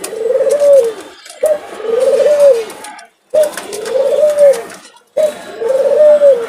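A pet dove coos close by in a steady repeating pattern, four loud rolling phrases separated by short pauses, with no other sound behind it.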